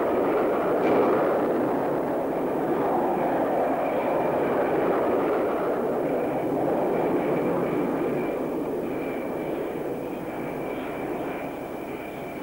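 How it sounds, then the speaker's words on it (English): RA-5C Vigilante reconnaissance jet flying, a loud, steady broadband engine roar that holds throughout and eases slightly toward the end, with no voices. "And then a huge RA-5C Vigilante Reconnaissance Plane."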